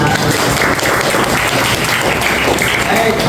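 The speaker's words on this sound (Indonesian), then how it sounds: "Tepuk tangan." A classroom of students claps together in a loud, continuous burst of applause, a dense patter of many hands that holds steady throughout.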